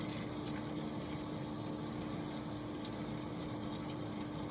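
Hot water from a shower runs in a steady, continuous spray and gush, close and even throughout with no talking.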